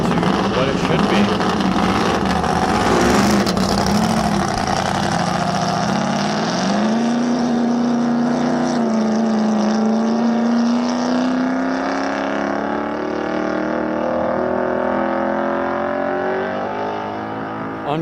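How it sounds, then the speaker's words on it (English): A Chrysler 392 engine in a 1953 Studebaker drag car at Speedweek 2024 roars loudly and steadily, its pitch climbing gradually as the car accelerates away, with a harsh, rumbling exhaust throughout. "That is the sound of a 392 Chrysler sitting in a 1953 Studebaker."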